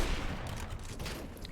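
Rapid bursts of gunfire from the video game CS:GO crackle in a dense, continuous volley, loud and unbroken, with no talking.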